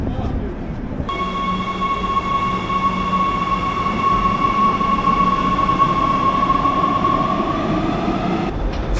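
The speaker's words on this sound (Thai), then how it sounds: "รถไฟใต้ดินโดยเฉพาะที่สถานีแซนทอน ในยูฮันเนสเบิร์กแห่งนี้นะครับ" A subway train rumbles steadily through Sandton underground station in Johannesburg, with a sustained high squeal of wheels ringing over the loud, continuous roar.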